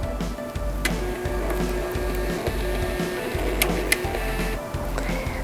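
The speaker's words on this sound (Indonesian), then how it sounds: "Kemudian ini kita coba untuk print ya." A built-in printer on a NODFORD FIA-STA 100 analyzer prints with a steady mechanical whir and rapid, evenly repeating thumps of the print head and feed, close and continuous with no voices.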